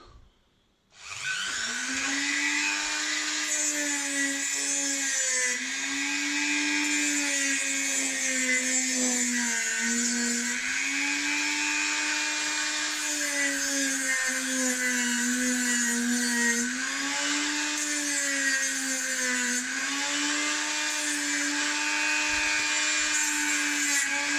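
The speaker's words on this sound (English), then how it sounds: "I'll just round this using the Dremel" A high-pitched Dremel rotary tool whines steadily for about twenty seconds, its pitch dipping slightly as it grinds and rounds a metal support bracket, close and loud.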